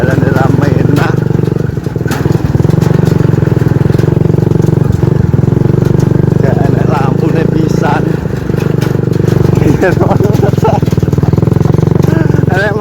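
A motorcycle engine hums steadily at mid pitch while riding, loud and close, with someone talking over it throughout.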